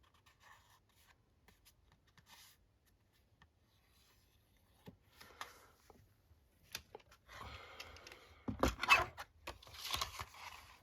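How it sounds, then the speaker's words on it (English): A large paper journaling card is cut in half with scissors, heard as faint scattered rustles that build into louder snipping and scraping strokes near the end. "It's quite a large journaling card, so I might just cut it in half."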